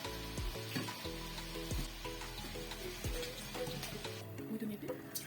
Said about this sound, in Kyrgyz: Мынакей биздин картошкаларыбыз кызарып чыгып баштады.